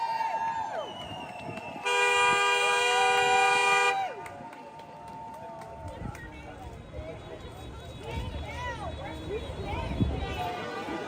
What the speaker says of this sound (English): These are honks in support.